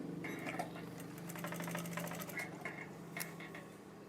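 A sewing machine slowly stitches a wave curtain, with a steady low mechanical hum and quick rhythmic needle ticking, close and continuous.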